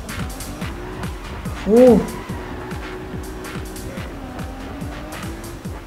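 A car driven in the video game Cyberpunk 2077, with a steady engine drone and rhythmic repeated engine pulses and a brief tire squeal midway. A voice gives a short exclamation over it.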